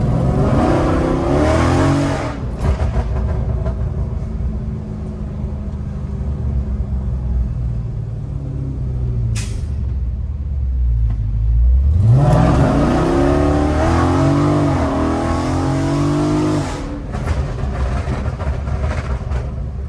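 Dodge Scat Pack muscle car with a loud aftermarket exhaust in sport mode, revving and accelerating with a deep rumbling roar that dips briefly then surges again, close and loud throughout.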